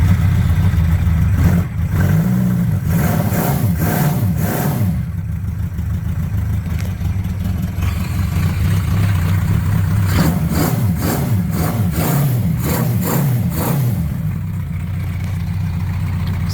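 A 1972 Honda CB500 motorcycle with low original mileage starts from cold and runs, a steady close engine rumble with repeated throttle blips that rise and fall over the idle.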